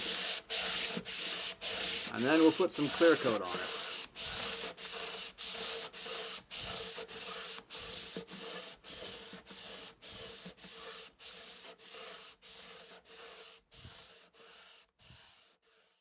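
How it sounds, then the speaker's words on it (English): Close, rhythmic strokes of hand sanding on a homemade wooden furniture piece with a wood block and 220-grit sandpaper, around two dozen even back-and-forth rasps, with a voice talking briefly near the start. "I'm going to use this block of wood and a 220 grit."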